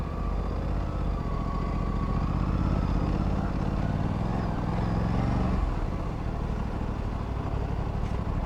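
An Aprilia RS 457 motorcycle rides through Indian road traffic, its engine droning and rising steadily close by alongside the wash of other vehicles.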